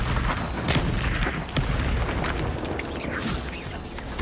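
Bombarda blasting spell exploding in the video game Hogwarts Legacy, a dense, booming burst with crackling debris rolling through a loud, continuous battle mix, with sharper impacts landing near the start and middle.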